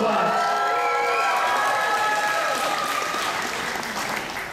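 A school engineering open-house audience cheers and claps, with bright shouts and whoops over dense applause that fades slightly toward the end.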